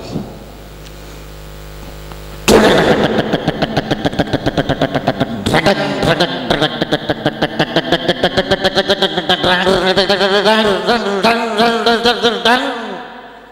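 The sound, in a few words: motorcycle with loud modified exhaust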